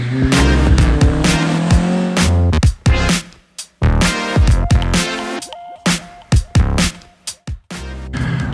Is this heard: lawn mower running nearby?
no